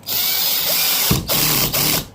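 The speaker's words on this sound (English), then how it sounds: "It's clicking even before it goes in, isn't it?" A power driver's clutch ratchets in loud, close bursts of rapid clicking, cut by two brief pauses, during an enclosure seal job.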